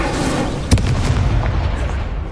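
An Incendio fire spell is cast in Hogwarts Legacy, producing a sudden booming burst with a brief crackle. A dense, rumbling roar runs underneath for the rest of the short moment.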